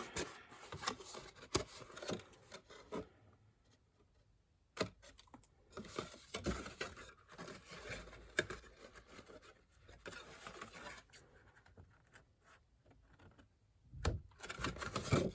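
Scissors cut paper pieces for a one-sheet mini album, giving close, quiet, intermittent snips and papery rustles with short pauses between bursts and no talking.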